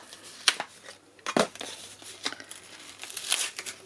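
Sealed package of four items being torn open by hand, with sharp tearing bursts and crinkling of plastic or paper wrapping, close and fairly loud with no talking.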